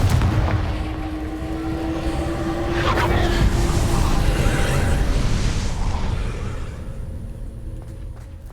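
Hogwarts Legacy's Confringo blasting curse sets off a heavy explosion: a broad, rumbling roar that swells to a peak midway, then slowly fades into a softer, lingering rumble.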